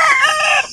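A mother hen gives a single short, loud, throaty call that trails off after under a second, close to the listener.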